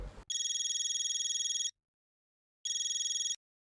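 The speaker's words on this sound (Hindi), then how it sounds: "किसको फोन कर रहे हैं?" A telephone ringing during a call, with two bursts of bright electronic trilling separated by a silence, loud and close. A brief voice sounds just before the first ring.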